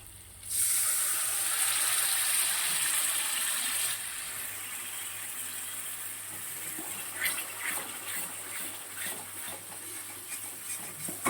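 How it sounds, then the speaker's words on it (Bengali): A little water poured into a pan of frying fish (tal koi) gives a sudden loud sizzling hiss that stays strong for several seconds, then settles into a steadier crackle and spatter. "এবার এখানে একটু সামান্য একটু জল দিয়ে দেবো।"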